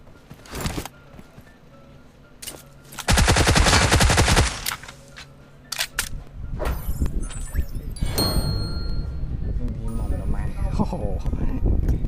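Rapid automatic gunfire from the PUBG Mobile video game, including a dense sustained burst and scattered single shots, heard up front with players talking over it.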